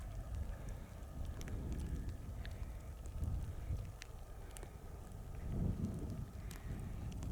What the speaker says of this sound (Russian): Сегодня ветер сильный.